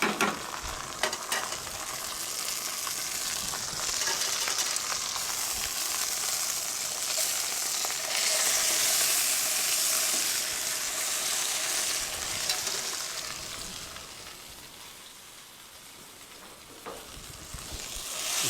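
Farm-raised Vendée label rouge capon supreme cooking in a pan, giving a steady, fairly loud sizzle and crackle that swells in the middle and eases toward the end, with occasional stirring scrapes and no voices.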